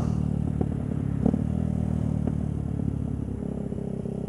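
Motorcycle engine running steadily close by on a cold, windy, cloudy day, a continuous low rumble with a few clattering knocks over it and no talk.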